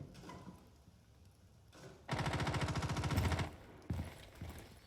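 A rapid burst of automatic gunfire in Rainbow Six Siege rattles for about a second and a half, framed by quieter game ambience and a single later shot.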